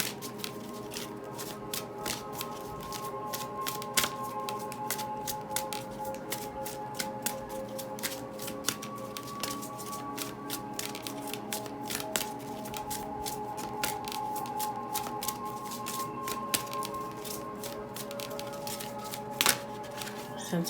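Cards being shuffled over and over, rapid papery riffles and flicks in quick bursts, close and fairly loud, continuing without pause.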